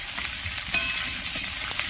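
Potato pieces frying in hot oil make a steady, close hiss and crackle of sizzling that holds evenly for the whole moment.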